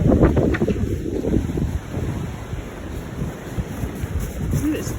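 Strong blizzard wind buffets the microphone in steady, loud gusts while snow blows and drifts around a hen coop, a continuous broadband roar with no break.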